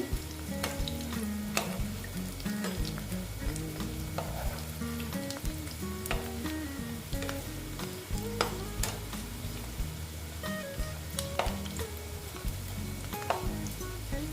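Dal pakoras fry in hot oil, a steady close sizzle and crackle running throughout, with occasional scrapes and taps as the fritters are flipped over one by one.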